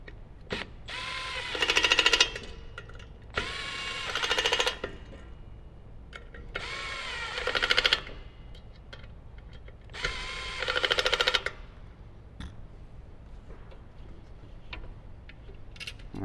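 Power tool tightening bolts on a subwoofer bracket for an Alpine powered subwoofer kit, heard in four separate whirring bursts of about one to two seconds each, close and fairly loud, with quiet gaps between them.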